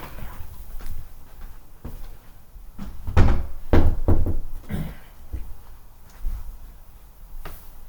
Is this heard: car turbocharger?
no